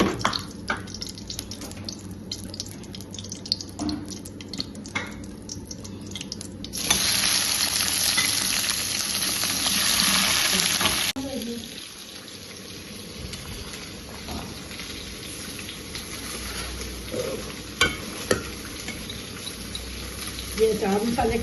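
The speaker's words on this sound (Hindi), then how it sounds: "ये गाजरें फ्राई हो गई हैं।" Carrots frying in hot oil in a pan, a steady sizzle with a louder crackling surge midway, stirring clinks and a voice talking over it.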